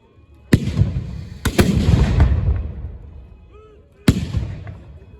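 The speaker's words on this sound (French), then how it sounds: "On tire à hauteur d'homme, mais on ne vise pas quelqu'un en particulier." Volleys of muskets fired by troops at a 1793 battle reenactment of the assault on Arlon, Belgium: three loud booming reports with long rumbling echoes, the first two close together, the last a few seconds later.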